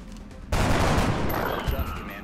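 A grenade explodes in the video game XCOM Enemy Within, a sudden loud blast that cuts in sharply after a quieter moment and then rolls on as a dense, crackling roar that slowly fades.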